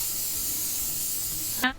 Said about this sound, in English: I'm going to take some spray oil